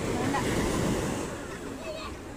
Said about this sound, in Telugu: ఇక్కడే పక్కకే ఉందండి ఇది బీచ్, బట్ వాటర్ కొంచెం డర్టీగా ఉన్నాయి.